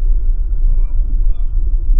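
Steady, loud low rumble inside a car with the windows shut, driving on a highway, a continuous droning road and engine hum with no pauses.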